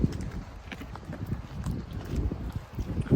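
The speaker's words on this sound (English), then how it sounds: "It's my horse. Nice little ride." A horse named Logger walks along a trail ride with mountain views, its hooves clip-clopping in a steady, close, uneven rhythm while another rider moves ahead.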